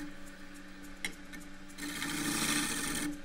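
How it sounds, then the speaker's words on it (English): A 3/8 spindle gouge cutting a cross-grain wooden box on a lathe: a continuous raspy shearing hiss over the steady hum of the spinning lathe, swelling louder in the second half. "Maybe I'll do it with the gouge. It's the 3/8 spindle gouge."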